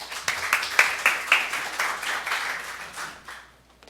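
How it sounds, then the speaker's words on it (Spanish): An audience at a university lecture series on readers and publishing bursts into applause for a guest speaker, a dense patter that swells briefly and then tapers off to quiet within about four seconds. "Recibámosla, por favor, con un aplauso."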